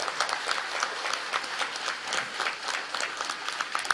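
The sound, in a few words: audience clapping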